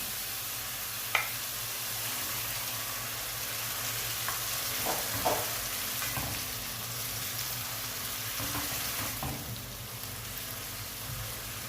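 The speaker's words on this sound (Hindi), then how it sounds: "अब मैं इसमें ऐड करूंगी चिकन" Marinated chicken sizzles and fries in a pan with a steady, moderately loud crackle, broken by a few brief stirring clinks and scrapes.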